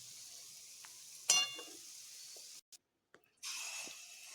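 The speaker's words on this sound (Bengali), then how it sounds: "বাকিগুলোকে এইভাবে আমি ভেজে নেব।" Jackfruit pieces fry in oil with a soft, faint sizzle, broken by a sharp clatter and a brief silent cut, then the frying hiss returns louder as more pieces go in; no talking.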